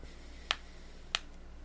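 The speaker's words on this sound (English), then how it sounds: "Snapping my fingers." Two sharp finger snaps about half a second apart, crisp and close, standing alone over a faint low hum.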